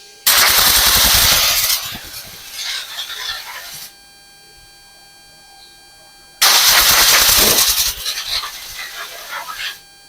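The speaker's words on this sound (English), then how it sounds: "I'll bring it over here and blow it off because there's a little bit of grit from sharpening" Compressed air blasts grit off a freshly sharpened chainsaw chain in two loud, hissing bursts of a couple of seconds each, separated by a quiet pause.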